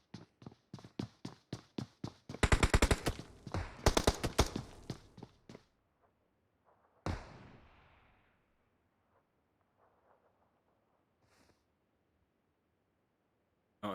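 Gunshots in a PUBG esports match: a quick volley of sharp shots, then a dense rapid burst, then scattered single cracks and one distant boom that fade into near silence.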